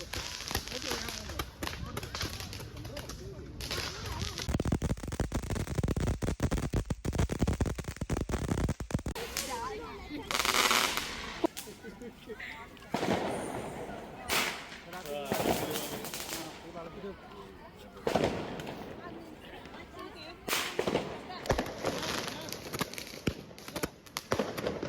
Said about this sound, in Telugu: సో అందుకే నేను 1 to 2 క్రాకర్స్ అలా కాల్చాను అంతే.